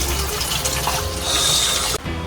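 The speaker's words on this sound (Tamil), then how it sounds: "பின்னாடி தச்சது கழுவு, சோப்பு தேய்ச்சி கழுவு" Water runs steadily from a tap while hands are washed with soap, a loud continuous broadband rush that cuts off abruptly near the end.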